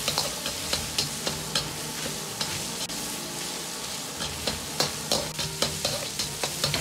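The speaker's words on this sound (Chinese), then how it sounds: "接着倒入肉末，保持中火炒出肉末里边多余的水分，炒出香味。" Minced pork stir-fried in a wok with a little scallion oil over medium heat: a steady sizzle under regular, rhythmic scrapes of the spatula, close and continuous.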